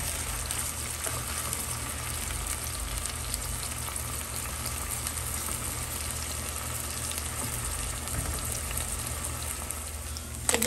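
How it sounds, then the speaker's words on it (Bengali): Small fish fry in hot oil, a dense, steady sizzle and crackle close by, running continuously without voices. "যে তেলটা গরম হচ্ছে আমি এখন মাছ দিতেছি"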